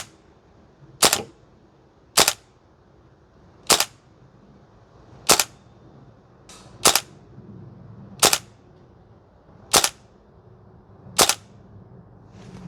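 WellPro AK12 gas blowback airsoft rifle firing single shots on a range, eight sharp cracks spaced a second or so apart over a quiet background.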